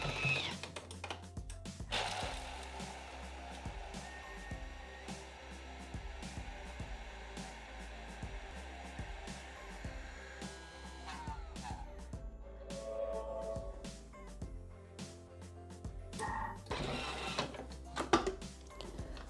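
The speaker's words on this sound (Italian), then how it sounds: "azioniamo il bimby per 30 secondi. Da velocità 6 a velocità 10." A Thermomix kitchen appliance blends a hazelnut chocolate cream with its speed stepped from 6 up to 10, giving a continuous close motor whir and grinding clatter lasting about thirty seconds, with no talk.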